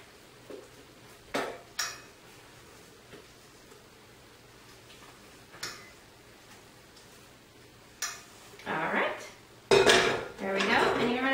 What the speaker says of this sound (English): Gently spread it around so you don't get your crust kind of lifting with you when you spread it.